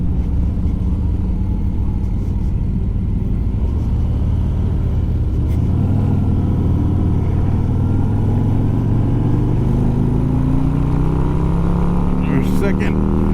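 A 2022 Harley-Davidson CVO Street Glide with a 117 engine is out on a test ride. Its steady, loud engine rumble climbs in pitch as it pulls through the gears, and a rider talks over it.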